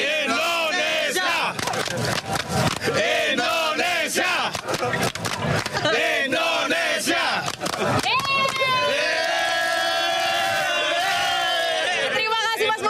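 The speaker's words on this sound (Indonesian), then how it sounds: "Indonesia tepuk tangan 3 kali" Indonesia supporters roar a loud crowd chant with clapping bursts mixed in, dense shouting voices close up that end in a long, sustained group cry.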